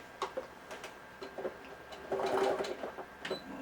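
Sewing machine stitching a purse in short, uneven bursts of quick mechanical ticking and whirring, fairly close and moderately quiet, with brief pauses between runs and a longer stitching run near the middle.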